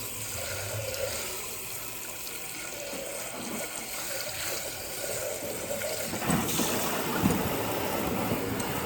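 Water runs steadily from a kitchen tap while something is rinsed during butter chicken prep, a continuous close hiss and splash with a brief louder swell near the end.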